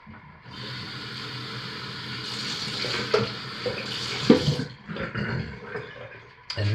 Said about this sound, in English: But I have to pour my lye water in.